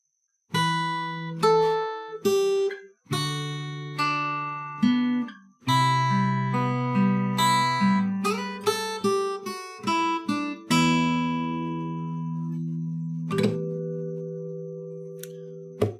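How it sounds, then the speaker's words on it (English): Fingerpicked natural harmonics on guitar ring out in a slow sequence of bell-like chiming notes, each sustaining and overlapping, ending on a long held chord, in a dark folk style. "Let's have a listen to bars 17 to 22, the natural harmonics"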